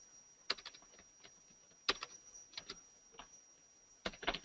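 Sparse keystrokes on a computer keyboard while entering an Excel formula, isolated clicks and small clusters spread over a few seconds, close and fairly quiet against a faint steady hum.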